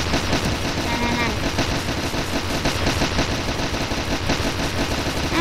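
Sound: gunfire in video game Roblox AI War

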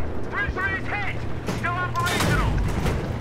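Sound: gunfire in video game Battlefield 3

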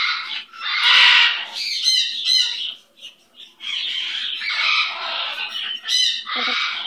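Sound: pet bird squawking

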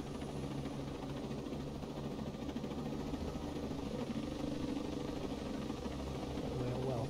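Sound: helicopter in the video game Ghost Recon Breakpoint

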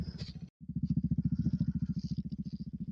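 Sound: farm vehicle engine as the farmer drives to the next field

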